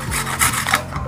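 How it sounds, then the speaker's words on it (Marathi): Garlic cloves grated finely on a grater for paneer bhurji, a close, loud rasping scrape repeated in quick back-and-forth strokes. "एक एक करून हा जो लसूण मी या पद्धतीने बारीक किसून घेणार आहे।"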